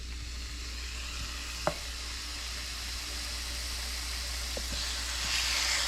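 Pork steaks sizzle in a big old cast iron skillet from the 1950s on a home stove, a steady soft hiss of frying with a couple of faint clicks, no one talking.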